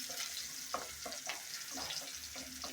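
Chopped garlic frying in a pan while being stirred, with a soft steady sizzle broken by several brisk scraping strokes in an irregular rhythm.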